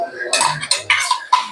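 A spoon clanks against a pan as ground tomato paste is added to softened onions and stirred, giving several distinct metallic knocks in an uneven rhythm, fairly close and loud.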